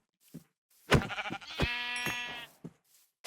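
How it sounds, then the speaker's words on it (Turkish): A sheep in the Minecraft video game gives a clear, drawn-out bleat, preceded by a few short clicks and game noises, loud and close against near silence. "Şu da koyun gördün mü?"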